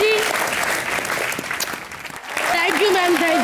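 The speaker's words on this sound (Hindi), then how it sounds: "जोरदार तालियां।" Studio audience on a Hindi comedy show bursts into loud, sustained applause, with a voice and music tones riding over the clapping before it dips briefly and swells again.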